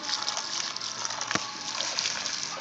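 Water squirting and splashing into a lake as huskies snap at the spray, a continuous hissing spatter with a sharp splash in the middle, fairly close and moderately loud.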